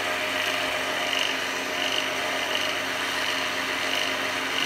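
A roughing gouge held fairly horizontal cuts a spinning wood blank on a lathe, giving a steady, continuous rasping scrape close by without pause.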